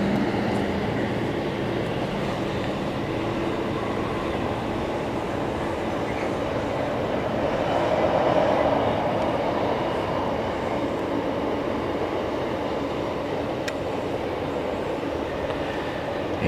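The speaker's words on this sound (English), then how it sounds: "It's a freight train." A long freight train rumbles past nearby, giving a steady, continuous roar of rolling wagons with faint clatter that swells slightly midway and holds at a constant level.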